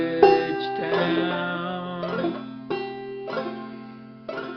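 A banjo is plucked in a bouncy clawhammer rhythm playing "Boil Them Cabbage Down", bright ringing notes struck in clusters with short pauses between phrases.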